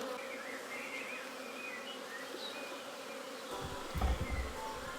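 Honeybees drone steadily around an open hive during an inspection, a dense close buzzing that holds throughout, with a low thump and handling noise near the end.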